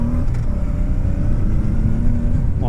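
A motorcycle is ridden on a road, its engine rumbling loud and steady close by as it gets up toward about 30, with wind noise layered over it throughout.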